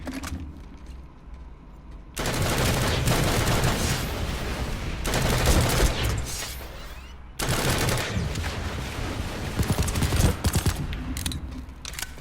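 Rapid automatic gunfire in Planetside 2 comes in loud, dense bursts with brief pauses between them, close and dominant, with mechanical clatter in the gaps.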